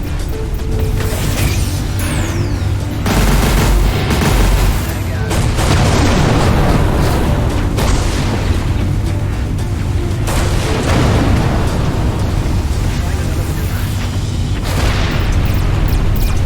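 Torpedo strikes in the space combat game Everspace 2 land as a continuous barrage of loud, heavy booms and rumbling blasts, one after another for the whole stretch, with no pauses between them.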